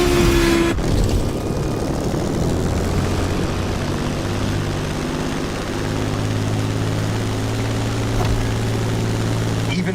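Airplane engine in The Crew Motorfest racing game: a steady propeller drone with a low sustained hum, loud and continuous, with a brief sharp transient near the start.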